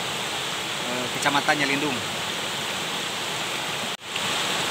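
The Cimandiri river at Cikundul flows with a constant broadband rush, steady and fairly loud. A voice speaks briefly over the water, and the sound cuts out for an instant near the end.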